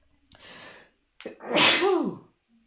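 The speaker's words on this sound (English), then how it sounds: "I'm just a sneezy person in general." A single person's sneeze, a short sharp intake of breath followed by a loud burst of the sneeze itself, close and alone in a quiet room.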